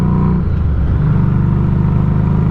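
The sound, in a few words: Harley motorcycle engine running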